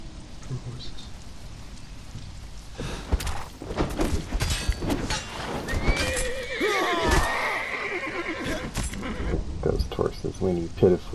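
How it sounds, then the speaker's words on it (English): Several horses whinny pitifully as they are slain in a haunted setting, with shrill neighs rising over hoof clops, thuds and a rain-like patter, while voices talk underneath. "whinny pitifully as they're slain again as they were in life."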